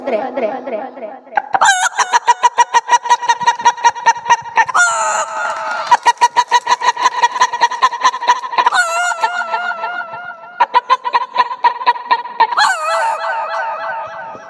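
A voice imitates a clucking hen, repeated rhythmic bursts of clucks and squawks, loud and close, with a few rising cackles.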